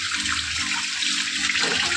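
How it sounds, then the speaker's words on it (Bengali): Tap water runs while hands are washed at a kitchen sink. A steady, close splashing flow lasts throughout with small shifts as the hands move, and no voices. "এই জন্য হাতটা ধুয়ে নিই।"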